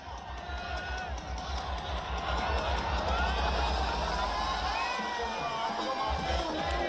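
A dense crowd of young people celebrates New Year on Mall Road in Manali, a continuous roar of overlapping voices, shouts and cheering heard from within the throng.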